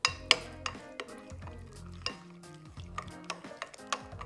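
Pumpkin cupcake batter with butter and egg being mixed in a bowl, a utensil clinking and scraping against the sides in irregular strokes, close and steady with no talk.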